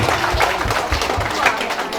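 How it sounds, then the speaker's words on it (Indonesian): Guests at a wedding party applaud together, a loud, continuous mass of clapping with a few voices mixed into the crowd noise. "mari kita tepuk tangan dulu"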